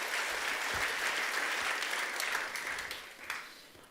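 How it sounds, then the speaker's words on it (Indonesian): Audience at an Easter church celebration applauding, a dense sustained wash of many hands clapping that fades toward the end, fairly distant. "Saudara beri tepuk tangan untuk kebenaran ini"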